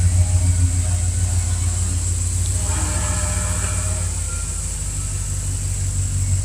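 A 2001 Jeep Grand Cherokee Limited engine runs steadily with a low, constant hum and faint higher whine, heard nearby without talk over it.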